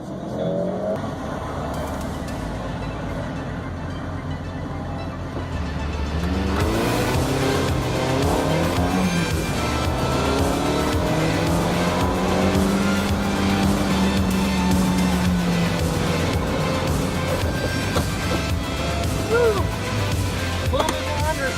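A car on Yokohama S-Drive tires runs an autocross course at Evergreen Speedway, engine revving up and down through gears with rising and falling pitch and faint tire noise, heard from inside with intermittent talk.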